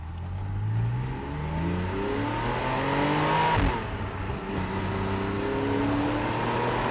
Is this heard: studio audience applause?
no